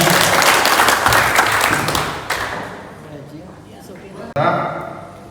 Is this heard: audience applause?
yes